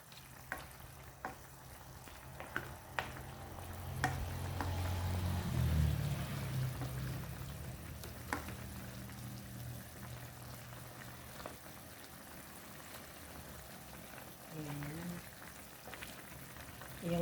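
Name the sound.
chicken adobo in Sprite boiling in pot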